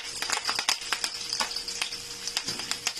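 Curry leaves dropped into hot oil splutter and crackle in quick, sharp pops at close range, dense and irregular, over a faint background sizzle.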